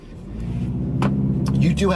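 2020 BMW 330i xDrive in sport mode, its exhaust rumbling and rising in a rev, steady and fairly close, with someone talking over it.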